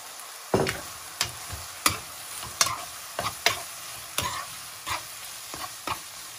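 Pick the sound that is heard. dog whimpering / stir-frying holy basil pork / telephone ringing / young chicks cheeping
stir-frying holy basil pork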